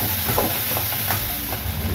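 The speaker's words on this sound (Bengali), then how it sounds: "এটাকে এবার একটু ভাজা ভাজা করে নিচ্ছি।" A ground spice paste fries in hot oil in a pan, a dense, even hiss and sizzle running unbroken at close range with faint ticks and pops.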